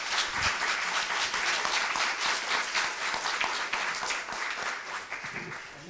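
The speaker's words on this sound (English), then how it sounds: "audience, please join Taylor and I and give them a hand clap of thanks" An audience at a candidates forum applauds steadily, dense clapping that holds strong for several seconds and then begins to thin out toward the end.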